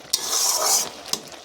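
Bottle gourd simmering with milk in a pan is stirred with a utensil, a soft sizzling scrape sweeping through the food, bracketed by two sharp clinks of the spoon against the pan, close and alone.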